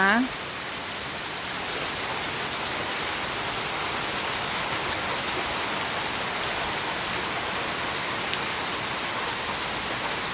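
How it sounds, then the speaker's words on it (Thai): Heavy rain pours down steadily, a dense, continuous hiss of drops hitting surfaces, loud and close with no letup. "ฟังเสียงฝนกันนะคะ"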